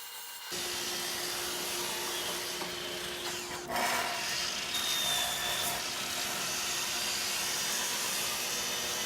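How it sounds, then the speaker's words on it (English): Steady broadband sanding noise on a veneered wooden edge starts after a brief silence and continues throughout, a continuous abrasive whir with a slight surge midway, close and fairly loud. "So I've just finished sanding this front edge here"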